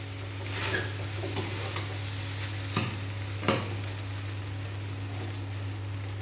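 Boiled rice being stirred through hot ghee in a pan, giving a steady soft sizzle with scattered scraping clicks from the spoon and a few sharper knocks, close up with no voices.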